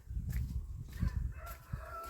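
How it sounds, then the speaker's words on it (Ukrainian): A chicken clucks and murmurs nearby in short, uneven calls, with other birds faintly chirping in the background. "Вон та курка знов тут уже."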